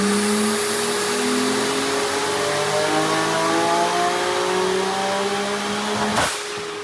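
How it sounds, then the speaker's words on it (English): Nissan Skyline engine revving hard on a dyno, a sustained loud pull with rising harmonic whine climbing steadily for several seconds before cutting off abruptly, heard alone without talk. "So we're gonna put this on the dyno and see what happens."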